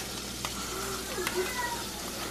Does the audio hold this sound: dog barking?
no